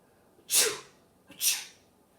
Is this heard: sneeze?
yes